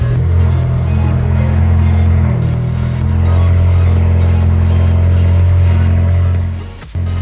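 An Alfa Romeo Giulietta engine runs with a steady, loud, low idle rumble close by, holding even throughout before a brief clunk near the end.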